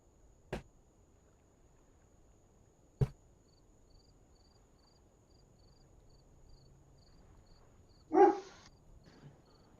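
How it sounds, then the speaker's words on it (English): Dogs in a house give a few short, separate barks, three brief sharp yelps spread over several seconds and one louder, longer bark near the end, heard from nearby against a quiet indoor background. "Apologies about the random barking there."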